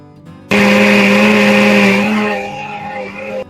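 An electric mixer grinder switches on abruptly and whirs loudly for about three seconds, grinding a spice paste for erissery, its pitch dropping slightly as the load changes before it stops.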